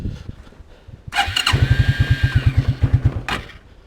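A 1992 Suzuki Quadrunner 300 ATV stuck in deep snow is cold started: a brief whir and cranking, then the engine catches with a run of loud, rapid, even thumping pulses before a short burst at the end.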